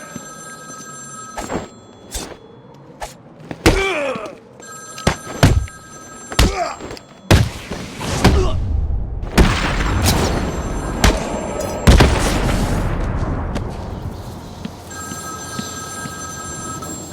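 In Batman Arkham City, a telephone rings repeatedly in sharp, evenly spaced bursts, joined midway by heavy thuds and booms. Combat noise thickens before the ringing returns clearly at the end.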